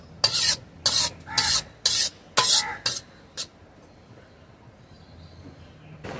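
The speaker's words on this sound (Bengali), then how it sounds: "দুধের সাথে এটাকে আমরা ভালো করে মিক্স করে নেব।" Grated carrot and half a litre of milk stirred together in a pan for gajar halwa, with a series of about seven loud rhythmic scraping strokes that end abruptly, followed by near silence.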